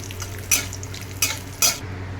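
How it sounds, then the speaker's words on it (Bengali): Raisins and cashews frying in oil in a pan for Bengali paneer pulao, a low steady sizzle broken by three short scraping stirs of a spatula against the pan, close and without speech. "আমি কিশমিশটা জাস্ট 1 মিনিট ভাজি রেখে তুলে নেব"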